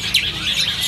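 Bright chirps and tweets from birds at a bird shop, where the stock includes young white jalak starlings. The calls come close and loud, in a short burst over a low background hum.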